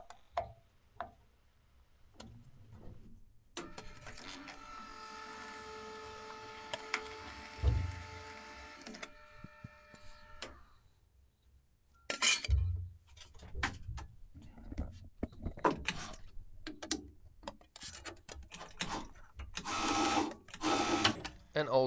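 A flanging machine works 0.8 mm stainless steel sheet in a workshop with a steady mechanical whirr and rapid ticking, followed by louder irregular metallic clanks and knocks, with no talk.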